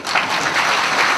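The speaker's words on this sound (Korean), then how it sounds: "다시 한번 분께 앵콜 박수 부탁드립니다." Brief burst of audience applause in a Seoul city council ceremony, loud and dense hand clapping filling just over a second.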